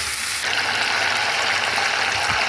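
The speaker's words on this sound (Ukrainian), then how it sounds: "Тепер недовго, трохи я його туди-сюди піджарю" Ingredients, a small tomato among them, sizzle and fry steadily in a pan, a loud continuous hiss with no talking.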